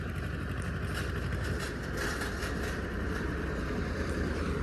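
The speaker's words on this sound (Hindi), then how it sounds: "यहाँ पे ट्रैक्टर आ रहा है हमारा" A tractor approaches with a constant rumbling engine drone and broadband road noise, steady and moderately loud throughout with no break.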